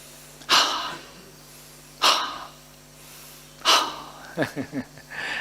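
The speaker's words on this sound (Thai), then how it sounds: "หายใจ" Deep breaths in and out during a Thai breathing and pressure-point exercise, three strong airy exhalations a second or two apart, then a quick series of short puffs.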